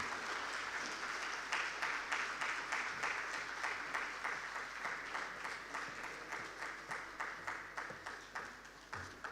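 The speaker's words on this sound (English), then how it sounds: "Please, another round of applause" An audience at an African Union conference on women's financial and economic inclusion applauds after a speech, the clapping falling into a regular, pulsing rhythm of synchronized beats, fairly quiet and distant in the hall.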